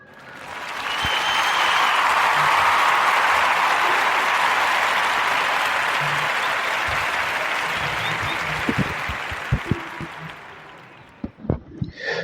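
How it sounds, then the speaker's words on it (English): An audience applauds Larenz Tate at a podcast event, with broad sustained clapping that builds quickly and then slowly fades into scattered claps and a few voices. "So, clap it up for Mr."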